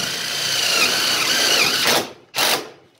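Power tool driving screws into a tin piece on a Newmac wood stove, a steady whirring drive that stops abruptly, then one more short burst, close and fairly loud with no talk.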